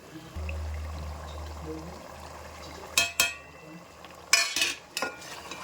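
A spoon stirs spices into mutton and masoor dal in a pot, making a few short, scraping, sloshing strokes over a faint low hum.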